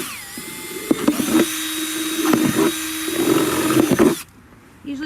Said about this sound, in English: So I'm going to go ahead and drill a couple holes.